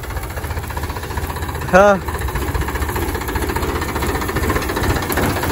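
A vehicle engine runs steadily in second gear with a low, throbbing rumble and rhythmic vibration. A short voice cuts in midway.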